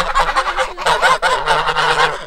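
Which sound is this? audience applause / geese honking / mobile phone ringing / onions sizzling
geese honking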